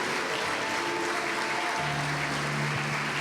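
A church congregation claps hands during an evening worship service, a dense, continuous applause with a low held tone, likely an organ or keyboard, entering partway through.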